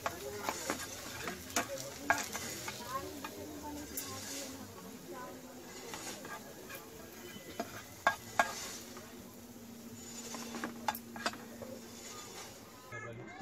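Sliced onions (kanda) frying to golden brown in a pan while being stirred, a steady crackling sizzle with intermittent scraping clicks of a spatula, close up and fairly quiet.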